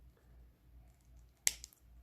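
Wire cutters trim jewelry wire on a pair of disco ball drop earrings, a single sharp snip near the end of an otherwise quiet moment, followed by a faint click.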